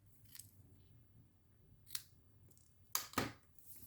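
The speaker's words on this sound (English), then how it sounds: "you can just hand trim it" Scissors snip by hand through paper card for a folded greeting card, giving a few faint, sharp clicks separated by quiet gaps, with a quick double snip near the end.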